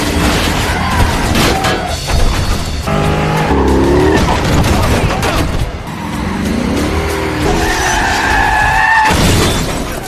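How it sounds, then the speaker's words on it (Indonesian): A film car chase in which one car rams the car carrying a crime boss: roaring engines, repeated screeching tire skids and crunching impacts fill the whole stretch, loud and dense. "John pun langsung mengejarnya dan menghantam mobil yang ditumpangi Vigo"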